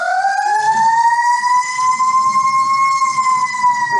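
An emergency siren in Oakland wails loud and steady, its pitch sweeping slowly up and then easing down as the vehicle passes, with faint low traffic rumble beneath.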